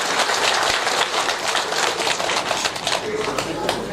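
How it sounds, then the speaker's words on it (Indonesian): An audience gives lively applause at the opening ceremony of a new school building, a continuous crowd clatter lasting throughout, with a voice audible underneath. "Mari kita berikan tepuk tangan yang meriah"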